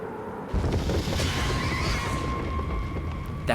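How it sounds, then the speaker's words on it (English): Horse neighing in the horror video game Mouthwashing, a sudden loud whinny breaking in over a low rumbling backdrop and trailing into a sustained tonal wail, close and prominent. "Oh, it's a horse. It's a pony."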